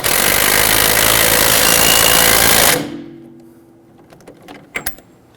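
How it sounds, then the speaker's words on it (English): A power tool tightens the lower strut (clevis fork) bolt on a 2011-2021 Jeep Grand Cherokee front suspension: a loud, continuous buzzing burst for about three seconds that cuts off abruptly, followed by a few faint metallic clicks. "We're going to tighten down our lower bolt here on the lower strut,"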